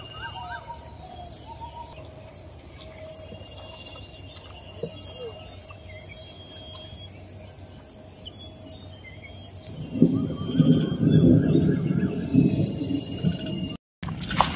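Faint bird chirps and insect trills drift over a riverbank on a quiet morning. The calls stay thin and distant, and a louder rumble joins in for the last few seconds.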